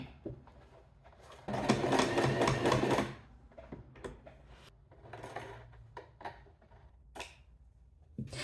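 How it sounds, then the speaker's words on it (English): Sewing machine stitching cloth handles onto a handbag in a rectangular pattern: a loud, dense whirring run of rapid stitching for about a second and a half, then quieter scattered ticks and short bursts as the fabric is turned. "fix these cloth handles to the bag, stitching in a rectangular shape"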